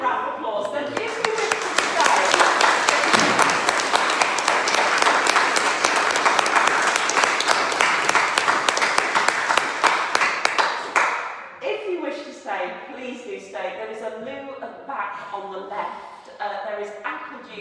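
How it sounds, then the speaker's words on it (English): A room full of people at a lecture applauds loudly and steadily for about ten seconds, then the clapping fades into general chatter and voices. "Can we give a round of applause?"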